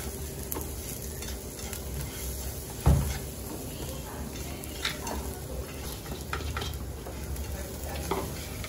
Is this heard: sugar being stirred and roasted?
yes